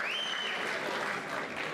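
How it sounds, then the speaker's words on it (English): Crowd at an Australian flyweight MMA title fight applauds in a brief, steady burst of dense clapping filling the arena, with a faint whistle at the start. "how about a round of applause for these two guys fighting for our Australian title"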